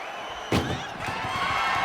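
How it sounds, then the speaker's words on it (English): Ambulance doors slam shut in WWE 2K25 with one sharp, loud metallic bang, followed by a rattling thud and crowd noise. "Shut the doors and this one's over."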